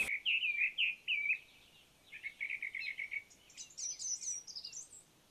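Whistled bird-like calls imitated by a person, a run of short warbling phrases rising higher toward the end, clear and fairly close with no talking.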